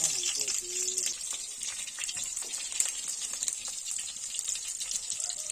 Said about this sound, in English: So we are putting our onions in the cooking oil.